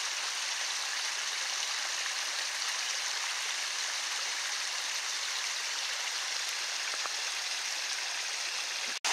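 A forest stream rushes steadily nearby at a rainy bushcraft camp, a loud, even hiss of flowing water that lasts throughout with no voices, ending in a brief thump.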